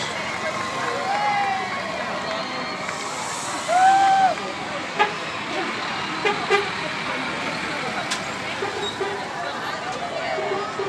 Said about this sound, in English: Here's the bus.